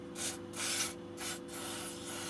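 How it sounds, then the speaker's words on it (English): GT85 lubricant sprayed onto motor parts in short hissing bursts, four quick sprays with brief pauses between them, close and fairly quiet. "give it a little spray down with GT85"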